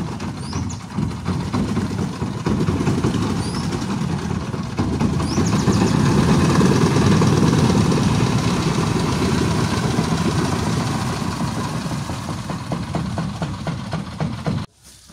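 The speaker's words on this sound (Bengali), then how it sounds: "এটা ঘাটের নৌকা" A ferry boat's engine idles at a river ghat, a steady close mechanical chugging with a low throb that holds for most of the stretch before cutting off abruptly at the end, with no voices.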